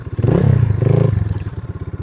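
A 250cc Minsk-type motorcycle engine salvaged from a fire runs at close range with a loud, rapid, pulsing single-cylinder thump and mechanical clatter, swelling briefly as it revs, with no talking.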